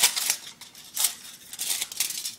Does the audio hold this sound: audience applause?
no